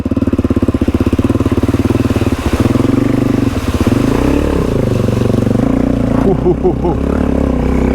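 Suzuki DRZ400E dirt bike engine running loud and close as it rides through a creek crossing on a solo adventure ride in Turon, Australia, with steady revving that shifts and bogs as the bike pushes through deepening water.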